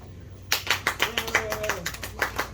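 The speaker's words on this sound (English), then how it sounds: "Now I don't know if that's a clap for me getting the fuck off the stage or Drake" Small audience clapping at an open mic night in a bar, a short burst of loose, uneven applause starting abruptly, close and fairly loud with a voice talking over it.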